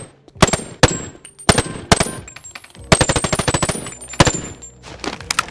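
Loud, sharp gunshots in Boneworks in irregular bursts, single cracks followed by a rapid automatic volley, with high electronic tones ringing between shots as bullets hit a target.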